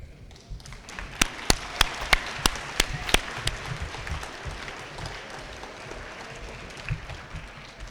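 An audience claps at a school eighth-grade awards ceremony, beginning with a handful of sharp, distinct claps that blend into a steady spread of moderate applause in an indoor hall.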